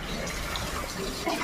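Tap water runs steadily into a container for household filling, a close, continuous splashing rush lasting the whole moment with no talk.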